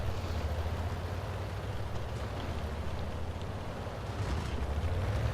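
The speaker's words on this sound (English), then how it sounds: "So I'm going to drive in, and then I'm going to rotate in." A tank drives and turns in the World of Tanks video game, a steady low engine rumble with a hissing wash of noise over it, continuous and with no talk.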